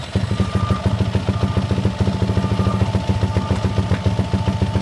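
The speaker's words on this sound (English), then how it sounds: "Perfect timing with a big truck backing up." Big truck backing up, its diesel engine idling with a steady rhythmic low-pitched clatter and a faint high reverse beep tone above it, continuous and close.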